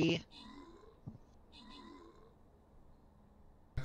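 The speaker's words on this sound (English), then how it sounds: "Hey, kitty." A house cat, greeted during a League of Legends gaming session, lets out a couple of short meows, faint and spaced apart, with a voice and headset chatter around them.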